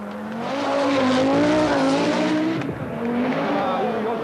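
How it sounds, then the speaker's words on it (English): A short-wheelbase Audi Quattro Sport rally car drives on asphalt at the 1985 Monte Carlo Rally, its engine note rising and falling loudly with a brief tire squeal midway. "Blomqvist nevertheless holds 4th place on only his 2nd appearance in the short wheelbase Quattro Sport"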